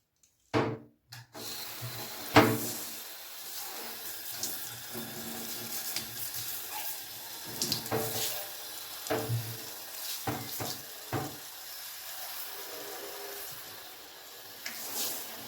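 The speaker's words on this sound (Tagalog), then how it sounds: "manipis yung dami ng tubig, tsaka may pressure" A thin, pressurized stream of water runs steadily from a broken bathroom tap whose cover has come off, with occasional knocks and rubbing noises over the flow.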